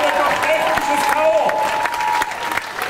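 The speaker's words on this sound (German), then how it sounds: "Einen Applaus für Sigi Klampfer" An audience at Burgfest Kaprun claps after a bout ends, a loud, dense run of applause with a few cheers, a steady tone beneath it and crowd voices mixed in.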